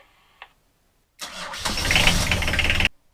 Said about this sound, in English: I want you to start the port engine